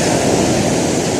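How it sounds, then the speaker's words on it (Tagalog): A brief, loud burst of heavy surf from big typhoon-driven sea waves during Typhoon Tino roars as a dense, unbroken wash. "Sunod-sunod yung alon"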